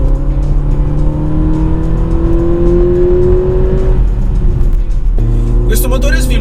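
A 2019 Porsche Macan with a 245 hp turbocharged engine accelerates hard in Sport Response mode, its loud, close engine note rising steadily in pitch before a gear change drops it and the climb begins again, under someone speaking.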